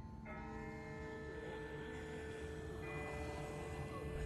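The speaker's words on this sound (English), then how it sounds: "That's not the same bell as before. This one's further off." A distant bell rings in The Walking Dead video game, a sustained ringing tone that swells and lingers over a steady low background rumble, with no talk.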